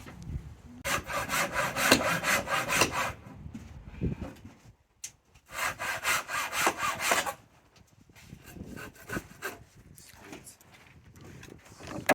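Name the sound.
hand sawing wood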